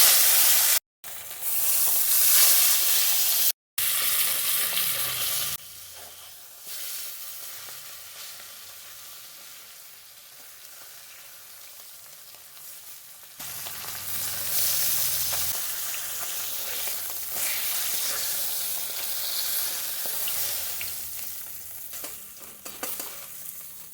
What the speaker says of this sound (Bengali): দেখছেন কি সুন্দর কড়কড়ে করে ভাজা হয়ে গেল আরেকটা আমি দিয়ে দেবো